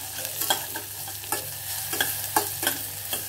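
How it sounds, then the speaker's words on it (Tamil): Onions frying in ghee for a biryani lunch, a steady close sizzle with repeated scraping stirs of a spoon against the pan at an uneven rhythm, with no voices. "வெங்காயத்தை முதல்ல நல்லா பொன்னிறமாக வறுத்துக்கிறோம்"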